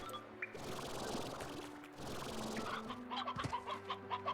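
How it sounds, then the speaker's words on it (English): Hens cluck in the wild in the video game Slime Rancher, a flock of quiet, overlapping clucks and short bursts of chatter, with a brief pause partway through. "that was a lot of hens just chilling in the wild"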